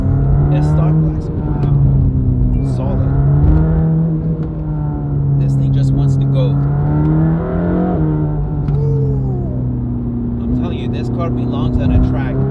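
Mercedes-AMG GT Black Series P One Edition running with a loud, steady engine drone that swells and eases slightly as it moves, close by, with people talking over it.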